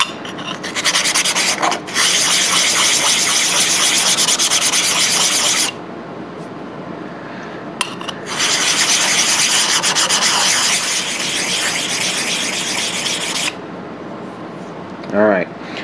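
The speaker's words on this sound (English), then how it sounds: "I'm going to use this little diamond plate here. I'm going to take off the scaling so I have a nice solid surface" Metal tapping blocks scraped back and forth across a diamond plate to strip off scale, two long loud bursts of harsh rasping separated by a quieter pause, with faint background noise between strokes.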